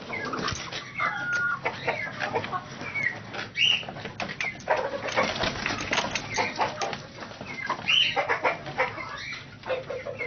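Chickens clucking and stirring as they come out of their coop, dense busy clucks and brief wing flaps close by, with no talking.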